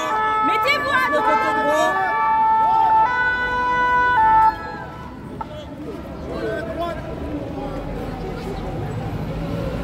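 Fire engine siren wailing as the truck passes on a road, its rising and falling tones loud and close for about four seconds before dropping off, leaving low traffic rumble and a faint voice behind.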